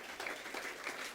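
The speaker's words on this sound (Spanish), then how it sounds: "Dale un aplauso fuerte al Señor." Brief, faint burst of applause from a church congregation, many hands clapping at a distance for just over a second.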